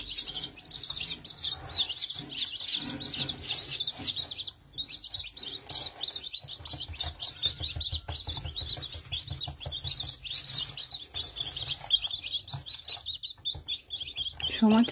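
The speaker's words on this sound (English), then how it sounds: "Oh, baby bird." Newly arrived baby chicks peep in a continuous high, rapid chorus of chirps close by, with quiet human talk and faint rustling underneath.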